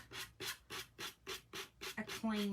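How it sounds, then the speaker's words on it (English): A sanding block rasps back and forth across a decorated tray in eight or so even strokes, each a soft scratchy swish, close but quiet, ending with a brief tonal squeak. "So now I'm just going to take a sanding block and sand off"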